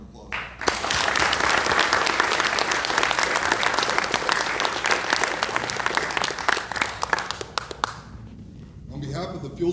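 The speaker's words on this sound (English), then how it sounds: "Let's give a round of applause." An audience gives a round of applause at an Air Force master sergeant's retirement ceremony after a flag presentation: a loud, dense burst of clapping that swells quickly, holds steady for several seconds, then cuts off, leaving room noise.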